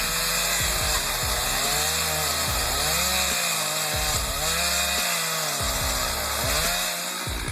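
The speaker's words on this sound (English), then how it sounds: "A healthy tree is being cut down, and it's honestly heartbreaking." A chainsaw cuts into a large standing tree, its engine droning steadily and bogging down and revving back up in repeated cycles, loud and close throughout with no speech.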